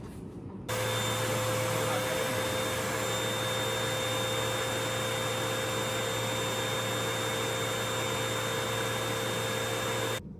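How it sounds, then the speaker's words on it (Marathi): A large vacuum cleaner draws air out of a plastic storage bag holding a mattress, running as a steady loud roar with a constant motor whine that starts abruptly and holds for about ten seconds. "म्हणून मी मोठ्या व्हॅक्यूम क्लिनरनी करतोय"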